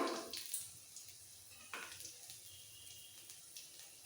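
A small splash of water poured into ground mustard paste in a pan while cooking pui shak with rohu fish head, a brief pour followed by faint wet trickling and soft bubbling, quiet and alone.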